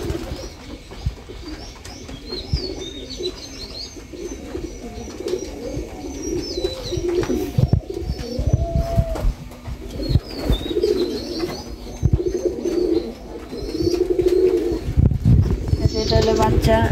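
Pigeons cooing in a pigeon house, several birds giving repeated throaty coos close by, with occasional chirps and faint wing flutters, while a person talks over them.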